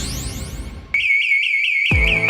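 A loud electronic alarm tone in a JFL Alarmes radio commercial, a steady warbling siren-like beep holding for about a second after the opening music bed, then cut off as the music returns.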